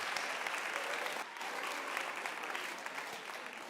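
Warm audience applause at a French-language lecture on social pedagogy, a dense, continuous wash of many hands clapping that holds steady and fades slightly toward the end.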